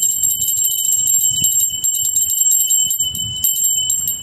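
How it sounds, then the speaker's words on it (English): A small bell rings rapidly and repeatedly in a bright, continuous jangle, close and fairly loud, with a sustained high ringing tone running the whole time. "I'm gonna ring the bell."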